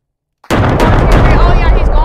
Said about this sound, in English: Okay, three airstrikes.